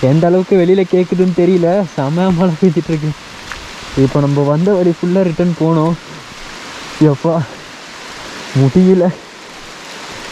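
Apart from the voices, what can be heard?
heavy rain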